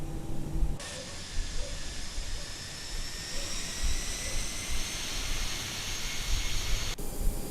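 Jet engines on a Toliss A321 in X-Plane 12 spool up for takeoff, a loud, steady roar with a whining hiss that starts abruptly and holds before cutting off near the end.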